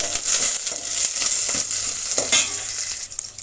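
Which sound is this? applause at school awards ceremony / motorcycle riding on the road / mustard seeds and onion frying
mustard seeds and onion frying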